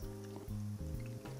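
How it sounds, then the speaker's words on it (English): A mixed cocktail is strained from a mixing glass over large king ice cubes in a tall Collins glass, giving a soft continuous pour and trickle of liquid against ice, quiet and close with no talking. "Then I'm going to strain the contents of my mixing glass over my ice cubes."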